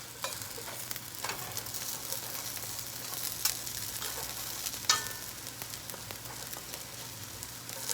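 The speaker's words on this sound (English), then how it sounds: "I'm cooking it low because I wanted to cook through and through, and it's going to crisp up." Potato cakes fry low in a pan with a steady, soft sizzle and crackle throughout, joined by occasional small pops and scrapes.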